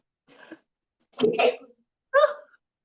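A single person's sneeze comes in short bursts: a faint wind-up breath, then a sharp, explosive burst, followed by a brief throaty exhalation, heard close and fairly quiet.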